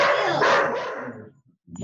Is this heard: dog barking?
yes